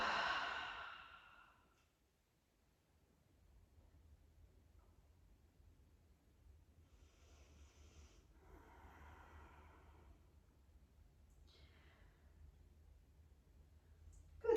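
Slow exhalation during a vinyasa yoga flow: a soft breath out fades away, followed by quiet faint breathing sounds in a near-silent room.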